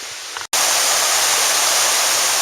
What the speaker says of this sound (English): Alright, that creek's picking up speed.